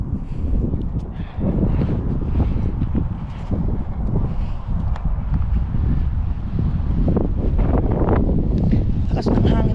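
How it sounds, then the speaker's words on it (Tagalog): Strong wind blowing through a park, buffeting the microphone with a continuous, loud, gusty rumble, and a voice faintly underneath at times. "Lakas ng hangin kaya."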